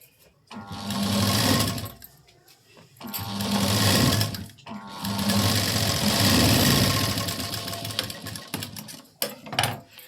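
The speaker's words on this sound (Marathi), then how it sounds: "इथे मी आता पहा ही शिलाई देत आहे." A sewing machine stitches a sleeve seam in bursts, three stretches of fast mechanical whirring separated by short pauses, close and fairly loud.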